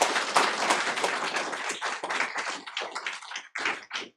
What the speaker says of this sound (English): let's do another big round of applause for Mr.